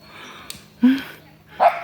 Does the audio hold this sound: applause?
no